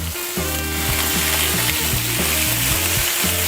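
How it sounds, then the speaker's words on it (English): Butterflied chicken breasts fry in a hot pan just after being flipped, giving a loud, steady sizzle with no talk over it, and there are some faint scraping touches. "now 2 minutes has elapsed, so I'm gonna flip them over"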